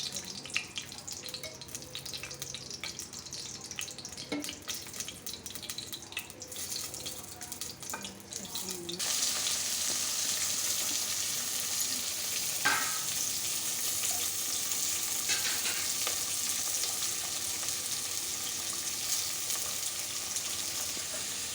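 Mint frying in oil and ghee for coconut milk rice, a soft crackle that swells into a loud, steady hissing sizzle with a few sharp pops, close and continuous.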